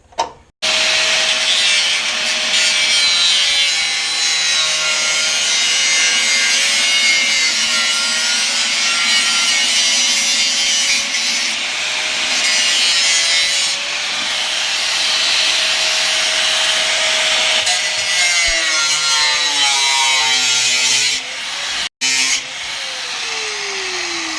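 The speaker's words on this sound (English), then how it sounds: "The cutting stone is just exactly that. I can rip through the steel pretty quick, and I can also clean up the surface" An angle grinder's cutting stone grinds through rusty steel on a 1998 Chevrolet truck, a loud, continuous high-pitched whine with a shifting rasp held for over twenty seconds, briefly cutting out near the end.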